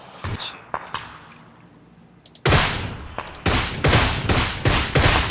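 Gunfire in PUBG: Battlegrounds, a few scattered early shots followed by a loud dense burst of rapid automatic fire from about halfway, with repeated sharp cracks close up.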